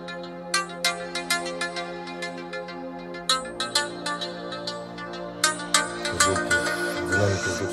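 Melodic phone ringtone played through stereo speakers, a bright tune of plucked, bell-like notes that builds and layers as it goes, fairly clear and close with no talking.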